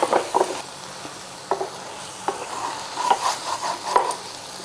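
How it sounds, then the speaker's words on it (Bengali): Kadai paneer masala with cashew paste fries in a pan while a spatula scrapes and stirs in short irregular bursts over a soft sizzle, close and fairly loud, no voices. "এখন মশলাটার থেকে তেল ছেড়ে দিয়েছে মানে মশলাটা ভাজা হয়ে গেছে"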